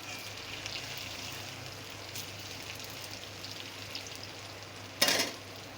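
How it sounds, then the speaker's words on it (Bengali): Soybean chunks coated in flour fry in hot oil, a steady close crackling sizzle running throughout with a brief louder burst of spattering near the end; no talk. "দিয়ে একটু লাল লাল করে ভেজে নেব"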